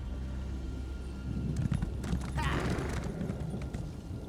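Hooves clip-clop steadily at close range, a horse's footfalls in the video game The Elder Scrolls Online, with a faint low rumble underneath and no talking.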